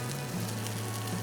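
Thinly sliced bacon and softened onion sizzling in a frying pan, a steady, close, uniform crackle with no talking.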